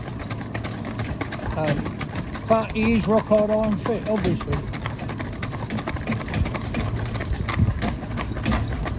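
A big, heavy-boned, powerful horse clip-clops along a road in harness, hoofbeats close and even, while someone talks over them.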